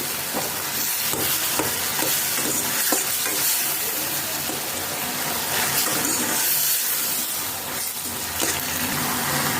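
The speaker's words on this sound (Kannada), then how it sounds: "ಚೆನ್ನಾಗಿ ಬೇಯಿಸಿ, ಟೊಮೆಟೊನ ಚೆನ್ನಾಗಿ ಸ್ಮ್ಯಾಶ್ ಮಾಡಿ" Continuous sizzling and wet stirring in a pan, steady and close, with occasional scraping as soft tomatoes are mashed down for tomato sambar.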